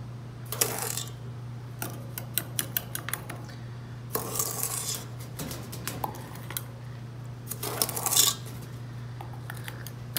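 Metal scoop clinking and scraping as mortar is packed and tamped into cube molds, a run of sharp, close clicks and taps coming in short clusters over a steady low hum, with no voices.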